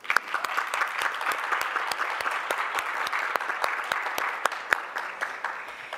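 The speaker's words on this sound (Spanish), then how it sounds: "Vamos a darle un aplauso" At a lawyers' federation talk on human trafficking, an audience gives a moderately distant, steady round of applause with occasional crisp individual claps popping out over six seconds.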